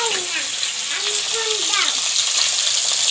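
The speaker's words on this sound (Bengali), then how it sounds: "এটা মাছ ভাজা হচ্ছে।" Hilsa fish frying in hot oil gives a loud, steady, hissing sizzle throughout, with faint voice-like tones in the background.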